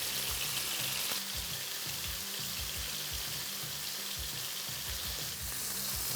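Skirt steak sizzles steadily in a hot pan, a loud continuous crackling hiss with brief spitting pops, close up and uninterrupted, no voices.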